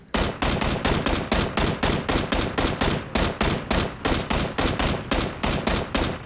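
Rapid automatic gunfire in PUBG, a steady burst of about twenty evenly spaced shots, loud and close with no talking over it.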